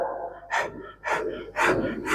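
A voice imitates a running horse's panting: four heavy, rhythmic breath bursts about half a second apart, close and fairly loud.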